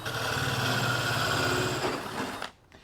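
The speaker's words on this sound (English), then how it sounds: "put the pilot bit back in the hole and finish drilling all the way through" A drill fitted with a hole saw and pilot bit bores through a wooden door with a steady, loud whirring grind, then cuts off abruptly near the end.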